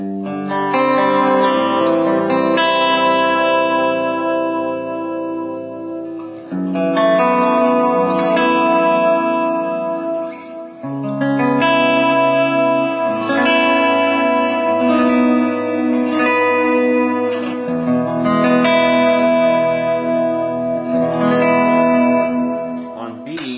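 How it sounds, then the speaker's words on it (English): Clean electric guitar chords ring out with a soft delay and reverb tail, strummed in sustained phrases with brief pauses between them. "a clean sound with a little bit of delay and reverb"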